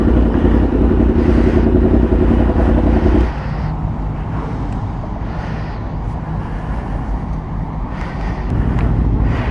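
Group of sport motorcycles including an Aprilia RSV4, R1 and ZX10 riding together on the road: a loud, steady engine roar mixed with wind rush, easing slightly partway through as the pack rolls on.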